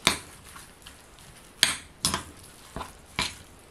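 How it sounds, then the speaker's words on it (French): Butternut squash stuffing being mixed in a bowl, with a few sharp utensil scrapes and clinks against the dish spread over a few seconds, fairly close and with no talking. "On mélange bien le tout."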